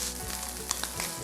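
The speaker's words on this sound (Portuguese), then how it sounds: "Frito ele até ele reduzir e ficar douradinho." Chopped bacon cubes sizzle steadily in a pan while browning, a continuous dense crackle with small pops throughout, close and fairly loud with no talking.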